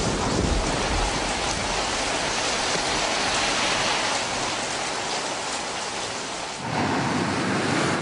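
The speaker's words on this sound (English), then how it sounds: "Listen to that thunder." Heavy rain pours down in a steady, dense hiss with low rumbling thunder running beneath it, loud and continuous with no voices.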